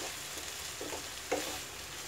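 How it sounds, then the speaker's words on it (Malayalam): Cauliflower pepper fry sizzling in a pan, a steady hiss of frying with a brief stir-like clatter partway through. "ഇനി നമുക്കിത് ഇങ്ങനെ വെച്ചിട്ട് അങ്ങോട്ട് ഫ്രൈ ചെയ്തെടുക്കുക."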